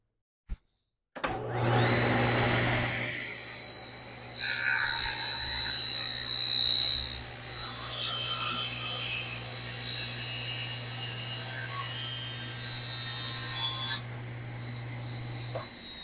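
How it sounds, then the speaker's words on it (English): A woodworker runs a saw through wood stool legs on a tapering jig, a steady low motor hum with the blade cutting intermittently for about twelve seconds, loud and close, then stopping. "I used the template to set up the tapering jig, and now I will taper these down."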